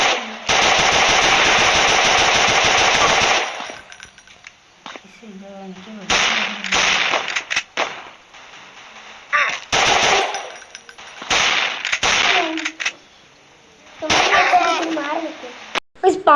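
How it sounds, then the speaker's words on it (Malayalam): Rapid bursts of automatic gunfire from a mobile gun-battle game ring out loud and close, a long sustained volley followed by shorter separated bursts and single shots, with someone talking between them. "നമുക്ക് വെടിവെക്കാം ഗൈസ്"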